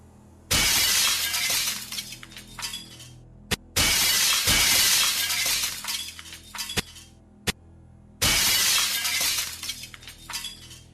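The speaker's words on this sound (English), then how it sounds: "smashed in the glass of the lady's imported car" A car window is smashed with a steel pipe: three loud, close crashes of breaking glass, each followed by scattered tinkling shards, with sharp single clinks in between.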